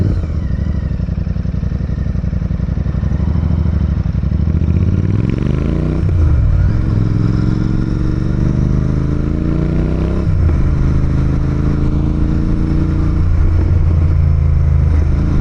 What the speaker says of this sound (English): my favorite part about the Royal Enfield has been the sound